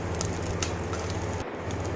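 Spices and cumin roast in a little oil over a low flame, giving a soft, steady sizzle with faint crackles. The sound is close and continuous for the whole clip.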